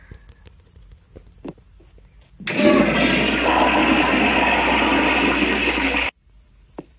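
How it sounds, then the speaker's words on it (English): A 2000s Kohler Kingston toilet flushing in the Roblox video game: a loud, steady rush of water that cuts in suddenly and runs about three and a half seconds before stopping abruptly, with faint clicks before and after. "That was a great flush."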